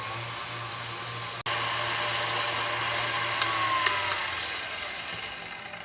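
An electric mixer beats a thin starter batter for Italian Easter bread on medium speed, a steady continuous whir that cuts out briefly and then runs on evenly with a few faint clicks.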